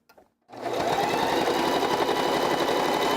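A sewing machine stitches fabric while a puppet is being built in a workshop. It starts after a brief bit of quiet with a couple of faint sounds, then runs close and steady with a fast, even mechanical chatter.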